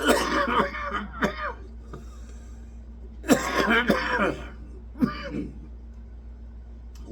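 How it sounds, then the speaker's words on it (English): Several harsh, throaty coughs come in bursts, close and fairly loud, with quiet pauses between them. "At least now I can cough."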